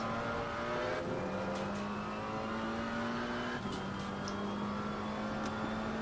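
A GT3 race car at Suzuka in Assetto Corsa Competizione drones steadily with its engine note shifting pitch twice as it passes, heard from onboard over a constant mechanical hum.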